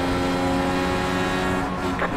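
A race car engine in the iRacing video game, a loud, steady high-revving drone held close throughout.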